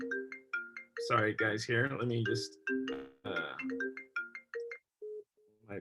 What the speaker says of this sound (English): my phone is ringing off the hook this morning